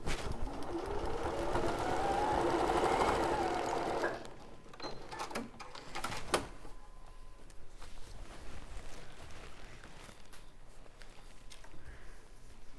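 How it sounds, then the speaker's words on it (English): Sewing machine stitching a line along a patchwork bag seam, running loud and steady for a few seconds before stopping, followed by quieter handling noises. "we will sew that line again"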